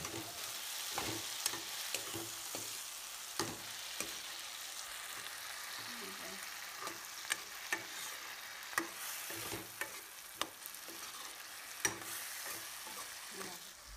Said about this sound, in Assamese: এতিয়া ইয়াতে দিছোঁ জলকীয়া, আদা, নহৰু আৰু বিলাহীৰ পেষ্টখিনি। আৰু ভালদৰে এনেকৈ মিক্স কৰি ল'ম।